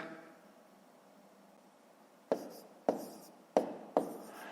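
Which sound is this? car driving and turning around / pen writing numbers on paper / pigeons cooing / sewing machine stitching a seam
pen writing numbers on paper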